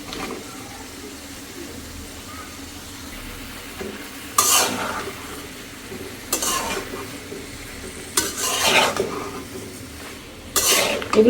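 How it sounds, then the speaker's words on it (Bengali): Fish curry with local beans, green tomato and potato being stirred in a pan, with scraping bursts of the spoon against the pot breaking up a steady low sizzle, four louder stirring passes spaced through the clip. "তা এখন তরকারিটারে খুব ভালো করে সুন্দর করে নাড়াচাড়া দিয়ে একটা ঢাকনা দিয়ে"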